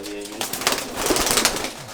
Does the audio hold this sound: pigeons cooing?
yes